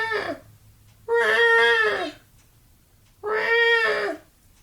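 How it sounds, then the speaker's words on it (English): A cat meows in two long, clear, drawn-out calls separated by a pause, following the fading tail of an earlier meow. The calls are close and prominent against a quiet, faintly humming background. "Again I heard the meow."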